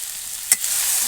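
Shredded cabbage fries dry in a pan, a steady hiss of sizzling broken by one quick scrape of a spoon stirring it.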